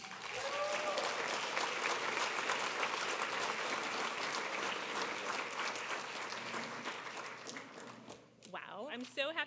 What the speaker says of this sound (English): please give my friend and amazing supporter a huge round of applause